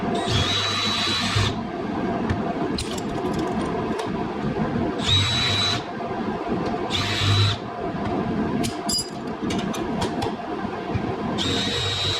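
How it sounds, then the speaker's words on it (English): A power drill drilling a hole in metal on a Yamaha YXZ runs in several loud bursts of a few seconds each, whining over a constant grinding engine-like drone, with scattered clicks between bursts. "Now I got to measure out this hole and mark it up and drill that one"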